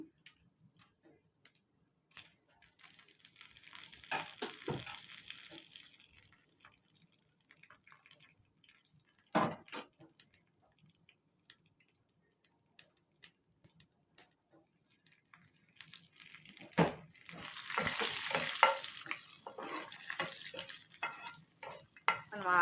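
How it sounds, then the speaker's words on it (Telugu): Mustard seeds and dried red chillies fry in a little oil in a large kadai for amaranth leaf fry, with steady close sizzling, scattered popping ticks, and louder bursts now and then. "ఆవాలు కొంచెం ఇప్పుడు మనం ఎండుమిర్చి వేసుకుందాం"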